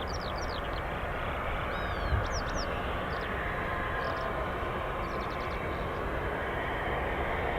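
A C-17 heavy transport jet of the Strategic Airlift Capability's Heavy Airlift Wing gives a faint, steady distant rumble, with birds chirping intermittently over the broad engine noise.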